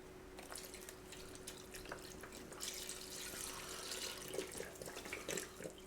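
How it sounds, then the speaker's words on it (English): Broth poured into a pressure cooker for Italian 15 bean soup, a quiet close trickling and splashing with small drips, growing slightly busier toward the end. "finish putting your broth in"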